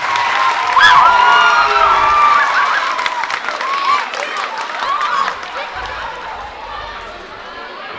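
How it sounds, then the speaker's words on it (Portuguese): An audience in Macaé applauding for a performer, loud sustained clapping mixed with cheers, whoops and crowd chatter, gradually easing off. "Então uma salva de palmas para o Felipe da Gilda."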